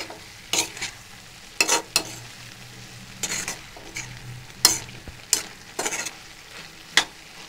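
Cauliflower with masala fries in a pan for cauliflower palya, a low sizzle under sharp scraping and clinking strokes of a spoon stirring against the metal at uneven intervals, close up and without talk.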